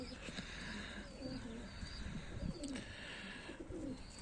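Pigeons coo softly in low, repeated throaty calls, faint and distant against a quiet outdoor background.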